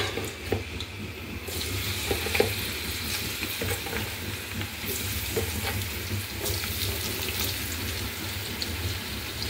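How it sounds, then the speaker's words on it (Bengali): Sliced brinjal frying in hilsa fish oil in a pan, a continuous close hiss and crackle with occasional knocks and scrapes of a utensil. "মাছের তেল দিয়ে বেগুনটা ভাজবো"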